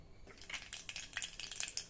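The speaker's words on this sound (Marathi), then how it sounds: "तेल गरम झालं की त्यामध्ये मोहरी घालूया।" Mustard seeds hit about two tablespoons of hot oil in a kadhai and set off quiet, crackling sizzles and scattered pops that grow busier after a brief silent start.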